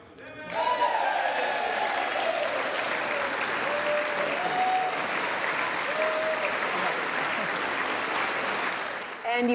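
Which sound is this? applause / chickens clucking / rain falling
applause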